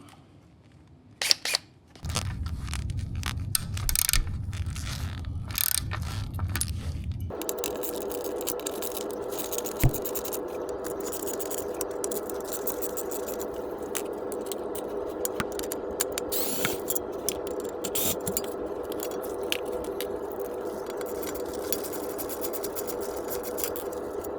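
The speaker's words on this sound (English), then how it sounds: "we'll go ahead and remove the skid plate with our T30 Torx bit" A T30 Torx bit works fasteners loose on the skid plate of a BMW GS 1300 motorcycle, with clicks, rattles and metal scrapes over a steady engine hum, close and repeated, and a tool whir partway through.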